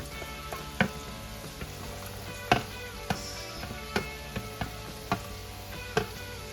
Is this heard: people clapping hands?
no